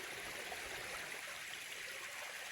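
Water rushes steadily down a hillside stream in the Appalachian backcountry along the trail near Neel Gap, a continuous broad wash of flow with no voices, close and even throughout.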